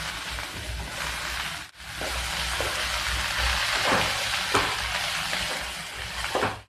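Onion dropped into hot oil for an Odia mixed curry bursts into a loud, dense frying hiss after a brief gap, then sizzles steadily with occasional stirring scrapes, close and alone.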